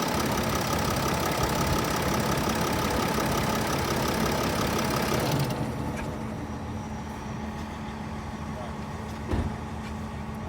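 A diesel RV engine runs with a steady, loud idle rumble, then settles into a quieter, even idle about halfway through, with one brief thump near the end.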